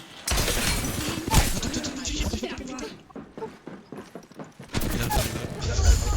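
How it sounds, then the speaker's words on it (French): Heavy gunfire in an Apex Legends match, rapid overlapping bursts and shattering impacts filling most of the stretch, loud and dense, with players talking over the shooting. "Je me fais canarder."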